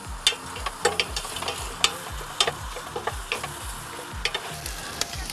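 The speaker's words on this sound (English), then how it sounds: "you just want to let that saute off for a minute there" Diced vegetables sizzle in hot olive oil in a pan, a continuous close frying hiss broken by irregular sharp clicks and scrapes of stirring.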